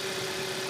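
A Kia Optima with a 2.4-liter GDI gas direct-injection engine idles in a steady, even drone with a constant low hum and no talking over it, for under a second.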